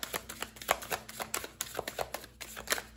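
Moonology oracle cards being shuffled close up, a quick run of soft papery riffles and flicks in an uneven rhythm, faint and with no one talking.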